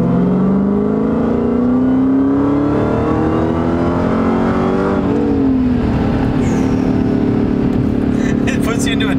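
A supercharged Dodge Hellcat accelerates on a highway, its engine note climbing steadily as a loud, droning roar inside the cabin, with a brief shift dip partway through and people talking over it.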